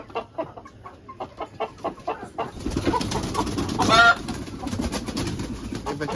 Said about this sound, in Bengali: এই তো চিকেন ফার্মের ভিতরে মুরগি আছে